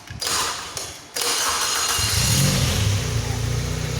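A Toyota Corona EFI engine mounted on a training stand cranks briefly with a starter whine, then catches and settles into a steady, loud idle, recorded close by.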